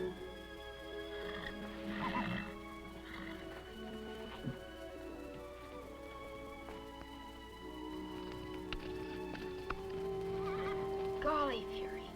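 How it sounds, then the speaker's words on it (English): A wild stallion in a 1950s TV western whinnies several times over a steady musical background, with only faint hints of hoofbeats. "he's a wild horse and he can't be tamed"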